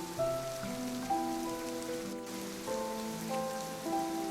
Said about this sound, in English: The rain sounds so soothing.